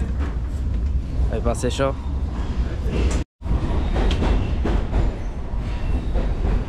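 London Underground train rumbling and clattering loudly through a station, with squealing wheels and a brief cut partway through; a person speaks over the noise.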